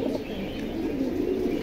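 Pigeons cooing in a cage, a steady low rolling coo that carries on without pause, moderately loud and close, with no talk over it.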